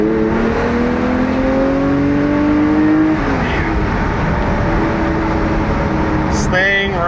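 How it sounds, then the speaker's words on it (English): A Ferrari 400i's Colombo V12 engine runs and revs, its smooth harmonic drone rising, dipping, then climbing again, loud and close throughout, with a brief higher whine near the end. "Let's let that Colombo V12 do its thing."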